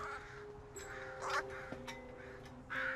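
Crows caw in the open, several harsh calls spread over a few seconds at moderate distance, with a faint steady tone and light background noise beneath.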